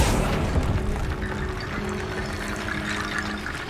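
Accio, a summoning spell cast in Hogwarts Legacy, sounds as a dense, rushing watery wash that holds steady for several seconds, with a low boom underneath.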